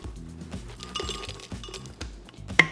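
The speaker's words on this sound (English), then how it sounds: "give them a quick little hit with a hammer first." Hammer striking ice cubes while making a frozen strawberry daiquiri, a series of sharp clinks and cracks at close range with one louder final knock, no voices.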